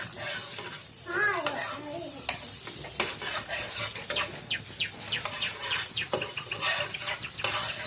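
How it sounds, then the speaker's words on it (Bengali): Bay leaf and butter sizzle in a pan for palak paneer. The crackling, bubbling fry runs steadily up close, with scraping stirs and a voice talking over it now and then. "আবারও আমি প্যানের মধ্যে দিয়ে দিচ্ছি তেজপাতা আর দেবো কিছুটা বাটার।"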